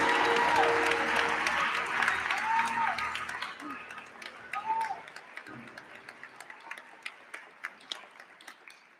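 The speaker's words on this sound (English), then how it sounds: "Please give her a warm round of applause for her great efforts for Stockton." Audience applause at a university commencement ceremony, a broad dense wash of clapping from a large crowd that gradually thins out, ending in a few scattered individual claps.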